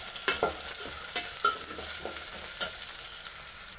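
Peanuts and cumin frying in a pan give a steady, loud sizzle, with several irregular scraping knocks from a stirring spoon heard close up.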